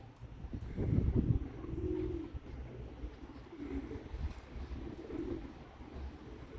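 Pigeons coo softly in low, rolling phrases while taking their first flight after winter, a few repeated coos at moderate distance over faint background noise.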